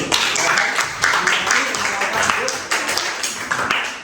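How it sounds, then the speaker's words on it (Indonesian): A classroom full of students claps for group 4 in a dense, continuous patter of hands that lasts throughout, with voices mixed in. "Iya, tepuk tangan dulu."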